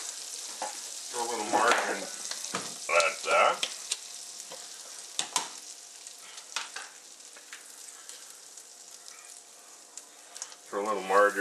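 Garlic butter sizzling and crackling steadily in a big frying pan, close and continuous, with stirring scrapes and a voice speaking at times over the frying.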